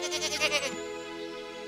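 A goat bleats in a few wavering, nasal cries close by, the voice quivering before trailing off into a steady tone.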